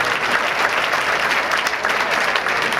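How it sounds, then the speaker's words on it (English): A round of applause from an audience at a Cajun comedy show, dense and continuous clapping at a fairly loud, even level throughout, with no speech over it. "Please give a round of applause to my wife, Kathy Broussard."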